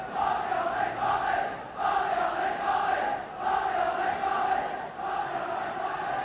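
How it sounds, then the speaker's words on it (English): A large football stadium crowd at a Wales v Iceland match roars continuously, a dense, loud wall of voices that swells and dips in waves, with no single voice standing out. "Wales now looking for support from this crowd"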